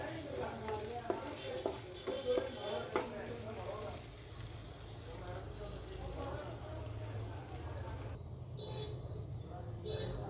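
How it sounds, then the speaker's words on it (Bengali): Chopped green chillies fry in a pan for a vegetable momo filling, a steady soft sizzle with occasional stirring clinks early on, continuing evenly throughout. "এবার দিয়ে দেবো লঙ্কা কুচি, একটু ফ্রাই করে নেবো এটাকেও।"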